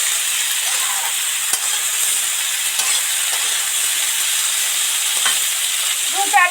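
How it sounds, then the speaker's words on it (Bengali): Snake gourd stir-fries in a pan with a steady close sizzle and hiss, broken by a few light scraping knocks as it is turned. "চিচিঙি যত নেড়ে চেড়ে আস্তে আস্তে ভাজতে থাকবেন তবেই টেস্টি হবে।"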